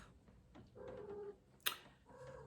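A pet cat gives a few soft, short meows and chirps close by in a quiet room, with one sharp brief sound near the middle.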